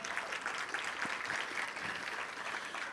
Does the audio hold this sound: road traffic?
no